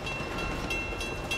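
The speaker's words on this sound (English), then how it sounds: "Oh, Jesus, I missed the train." Train rolling past in the video game Uncharted 2, a dense rumbling wash with faint rhythmic clatter, steady and fairly loud throughout.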